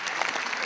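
A large audience applauds in welcome as Pakistan's Prime Minister Shehbaz Sharif is introduced at a youth council ceremony; thick, continuous clapping, loud and sustained through the short moment.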